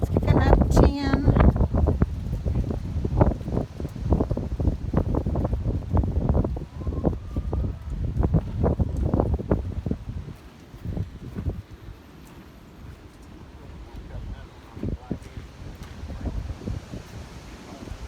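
Gusty wind buffets the microphone outdoors by rough-cut sawmill lumber, a low rumbling roar with rustling, heaviest early and easing later, while people talk throughout.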